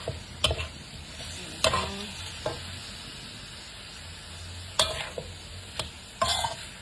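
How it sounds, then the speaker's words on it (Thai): Pork belly with bamboo shoots and dried shrimp cooks in a pot, giving a low steady simmer with a few sharp clinks and scrapes of stirring spaced through the clip, with no talk. "ใส่กุ้งแห้งด้วยนะเราจะต้ม หมูสามชั้นกับหน่อไม้เนาะ"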